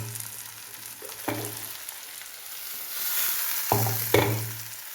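Curry of cooked jackfruit seeds and kanthari chilli leaves sizzles in a pan, with a few distinct scraping stirs breaking the steady frying hiss.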